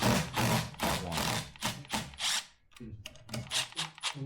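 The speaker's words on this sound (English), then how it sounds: "when you start taking these clutch plate bolts out, do not take them all the way out" Hand tool backing out clutch plate bolts on a Harley-Davidson M8 motorcycle engine, a close, loud run of rapid rhythmic ratcheting bursts with a short pause midway.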